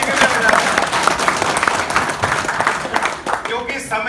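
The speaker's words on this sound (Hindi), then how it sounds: "एक बार जोरदार ताली भाई के लिए।" Dense crowd applause, loud and sustained, from an audience at a Holi gathering, a steady wash of many hands clapping with voices mixed in over it.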